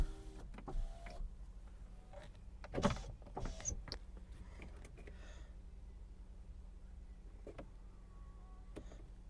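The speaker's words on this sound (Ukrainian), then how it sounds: "підйомники працюють" A Skoda Octavia 1.6 MPI's power windows run inside the quiet cabin, giving a steady motor whir with a few clicks and thumps near the start.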